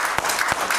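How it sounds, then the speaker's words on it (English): A church congregation claps their hands during a morning service, the claps coming as a few loud, spaced bursts over a general crowd wash. "Give Him a hand clap this morning."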